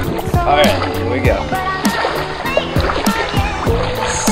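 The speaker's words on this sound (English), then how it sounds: "First steps into Greek water." Feet wade and splash through clear, shallow sea water off Hydra Island in Greece, with repeated close sloshing steps in an uneven rhythm, and voices chat nearby.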